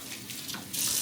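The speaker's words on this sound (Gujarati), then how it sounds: "તમે અહીંયા સિંકમાં નાખી અને થોડી ધૂળને ધોવાઈ જાય તે માટે પાણી ચાલુ કરી દીધું" Tap water runs into a kitchen sink to rinse dust from fresh garden fenugreek leaves, a steady close splashing stream that swells louder toward the end.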